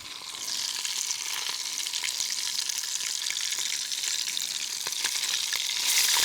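Fish frying in hot lard gives a steady, loud, close sizzle with crackling pops throughout, and no voices.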